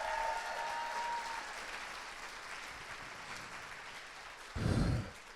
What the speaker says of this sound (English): Applaud South Africa.